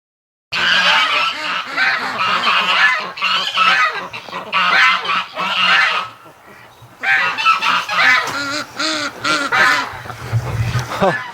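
A flock of geese wintering alongside ducks honks loudly and frantically up close in a barn or pen, a raucous overlapping chorus that pauses briefly and then erupts again.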